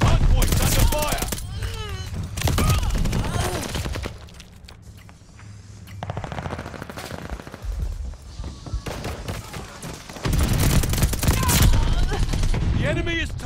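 Repeated bursts of automatic gunfire around a hardpoint in Call of Duty Vanguard multiplayer, loud and close in several waves with brief lulls, while game voice callouts speak over the shooting.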